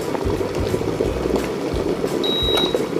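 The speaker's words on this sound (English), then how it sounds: "you can set to bring the water to a boil and it will automatically turn off when done" A KINDEN 1.7-liter glass electric kettle brings water to a rolling boil, a steady close bubbling roar with dense popping throughout, joined near the end by a faint high whine.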